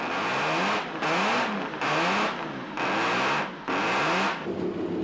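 A Mercedes-Benz W154 racing car engine revs hard in five rising blips, each a loud, raspy burst with brief drops between, close and alone.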